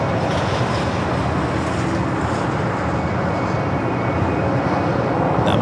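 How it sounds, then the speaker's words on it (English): An Airbus A380 taxiing at LAX, heard as a loud, steady broadband jet engine roar that holds constant without breaks. "It's a beautiful A380 Super."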